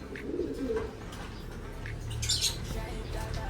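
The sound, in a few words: pigeon flapping its wings while handled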